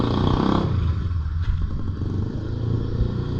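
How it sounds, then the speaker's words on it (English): A motorcycle-like engine rumbles close and loud, idling with a low, steady throb and a brief clatter after it starts, with no talk. "He's engaged the engine, that's what he's done"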